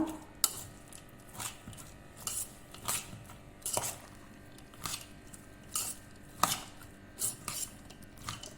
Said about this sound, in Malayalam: ഒക്കെപ്പാടെ നല്ലോണം മിക്സ് ആക്കുക